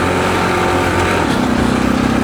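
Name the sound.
motorcycle engine sputtering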